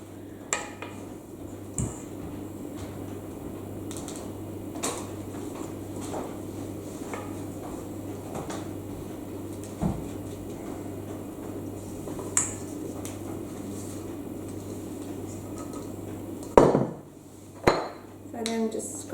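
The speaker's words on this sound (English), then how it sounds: "So then just scraping everything down, making sure I've got all the ingredients out" A spatula scrapes thick butter cake batter marbled with chocolate blobs around a mixing bowl, giving soft continuous scraping under faint room hum, with sharp clinks and knocks against the bowl toward the end.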